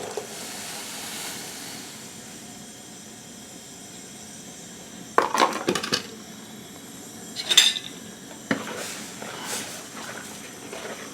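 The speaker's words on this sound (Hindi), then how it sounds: "जिसमें बादाम, इलायची, कस्टर्ड पाउडर और चीनी जो मिक्स करी है हमने, इसको हम डाल देंगे दूध के अंदर" Almond, cardamom, custard powder and sugar mixture tipped into a pot of milk, heard as a low background hiss with a few sharp metallic clinks and scrapes of a utensil against the pot, no talking.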